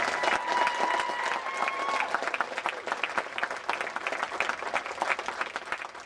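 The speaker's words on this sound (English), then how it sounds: "Please, a great big round of applause for Park President Bonnie Rabjon." A theme park media event audience gives a long, dense round of applause, loud and steady with crisp individual claps throughout and a faint tone early on, no talking over it.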